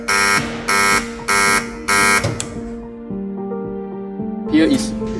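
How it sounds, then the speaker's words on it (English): An emergency buzzer on a student-built control panel sounds four loud, evenly spaced buzzes, followed by a lower lingering hum and a brief clatter at the end. "The all supply will turn off and the buzzer will trigger."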